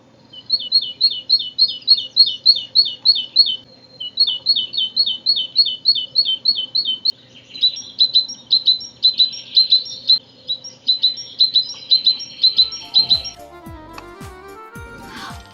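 Great tit repeating bright, high bell-like chirping phrases in quick rhythmic bursts, close and clear, ending with a few lower clattering sounds.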